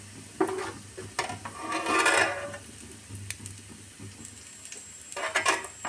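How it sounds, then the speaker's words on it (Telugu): Tempering spices fry in a little oil for a rajma curry, giving faint, intermittent crackling and a brief louder sizzling burst, with scattered light clinks of stirring and no talking. "కొంచెం ఆయిల్లో మనం ఈ పోపుని ఫ్రై చేసుకోవాలండి"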